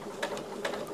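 Sewing machine stitching a fabric gift box, a short close burst of quick regular mechanical clicks over a low motor hum, with no talk over it.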